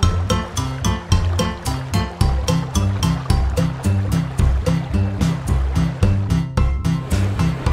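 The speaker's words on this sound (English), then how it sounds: "The water falls down," Flowing waterfall water in a children's alphabet-building app game, a steady rushing wash running throughout beneath bright, rhythmic music with a regular pulsing beat.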